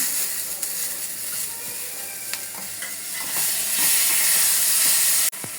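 Tomatoes going into a pan of frying onions and ginger, a loud, close hiss and sizzle with scraping stirring strokes that swell toward the end, then a sudden cut-off.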